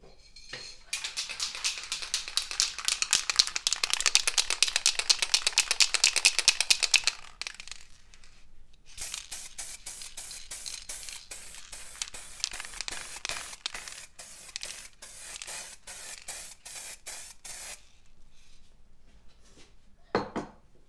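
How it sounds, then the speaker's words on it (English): Clear varnish sprayed from an aerosol can over a paint pour on a gesso board. The can is shaken and its rattle clicks rapidly, then short bursts of spray hiss come close up, ending with a soft thump. "What I did is I sprayed some, I'll show you. This is clear varnish."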